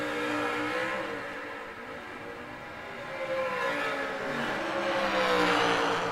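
A Corvette and a Pontiac, both automatic drag-race cars in an outlaw series event, roar with sustained, rising engine revving at close range, a dense mechanical whine building louder toward the end with no speech.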